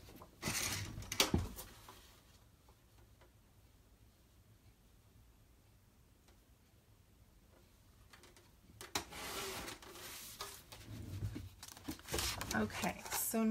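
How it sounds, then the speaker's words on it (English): Card stock paper sliced in half with a cutter, a brief burst of cutting near the start and another longer stretch of scraping, rasping cuts toward the end, with a quiet lull between. "cutting this paper in half"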